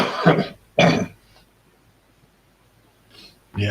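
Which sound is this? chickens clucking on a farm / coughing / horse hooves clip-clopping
coughing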